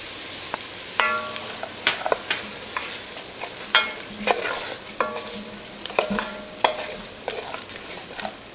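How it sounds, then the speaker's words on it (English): Onions and fresh garlic fry in bacon grease in a pan, crackling and sizzling under repeated close scraping strokes of a spoon as they are stirred, with no talking. "Cook it right in that bacon grease. Okay, so now we're gonna add our garlic. This is fresh garlic."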